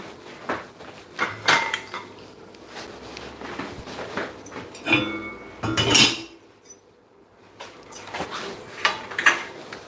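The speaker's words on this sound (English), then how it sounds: "Let's do some more musical pans. Move the pans again." Metal pans clank and clink several times in irregular bursts as they are shifted around, with quieter rattling in between.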